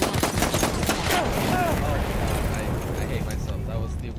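Rapid, dense gunfire from the Battlefield 1 video game rattles on for about four seconds, a steady stream of overlapping shots with a busy battle din beneath.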